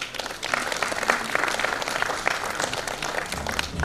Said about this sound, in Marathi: त्यांच्यासाठी जोरदार टाळ्या वाजवूया.